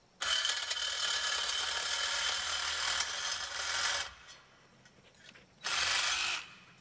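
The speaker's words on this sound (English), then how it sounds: "Cut that off with a bimetal blade with a sawzall." A sawzall fitted with a bimetal blade cuts through metal greenhouse purlin pipe in a harsh, buzzing rasp. It runs for about four seconds, stops briefly, then starts again in a shorter burst, recorded outdoors and at moderate distance.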